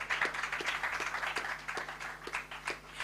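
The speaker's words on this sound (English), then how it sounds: "can we give them a round of applause?" At an International Day of Persons with Disabilities gathering, an audience gives a round of applause: scattered, fairly faint hand claps in an uneven rhythm, heard alone without talk.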